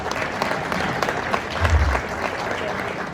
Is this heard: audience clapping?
yes